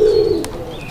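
A local pigeon of a pair for sale coos once, close and clear, a single drawn-out throaty note fading near the end.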